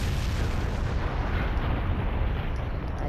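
A tail beast bomb explosion in the Naruto Ultimate Storm video game: a loud, sustained roaring blast with a dense, rumbling low end that stays steady for the full three seconds.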